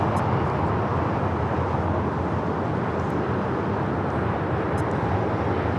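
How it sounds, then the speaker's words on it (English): Singapore Airlines Boeing 777-300ER arriving at LAX on a flight from Tokyo Narita, a steady broadband jet roar that holds at the same level throughout, with no voices. "Here we have Singapore Airlines Flight 12 coming in from Tokyo Narita on the"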